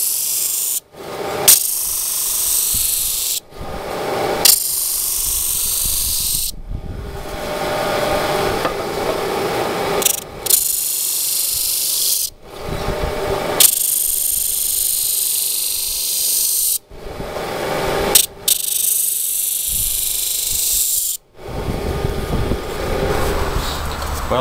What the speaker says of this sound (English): I've just finished sanding these on the disc sander.